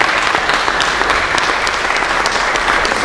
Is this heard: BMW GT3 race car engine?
no